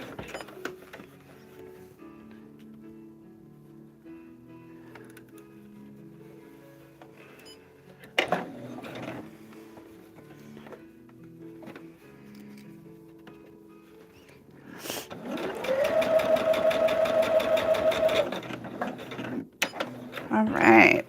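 A sewing machine stitches a fabric table runner, its motor running in a steady, close whir for a few seconds near the end after a stretch of quieter handling noise.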